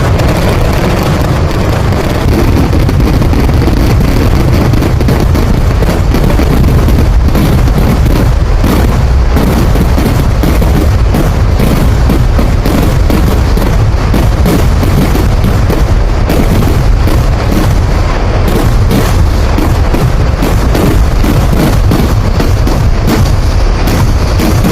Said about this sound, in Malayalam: അപ്പോൾ ഈ വല്ലങ്ങയുടെ വെടിക്കെട്ട് കൂടി തുടങ്ങി.